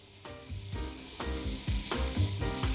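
Onions frying in a qadra cooking pot with pounded spices for an Algerian dish, a close, continuous sizzle with irregular spoon stirs and clinks against the pot, no talking.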